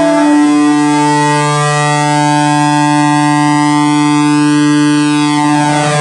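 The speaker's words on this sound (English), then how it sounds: "we can change the tuning of the feedback to give it a little bit more" A loud, sustained analog synth feedback drone rich in harmonics whose upper overtones sweep and shift in pitch as the feedback tuning is adjusted, with no talking.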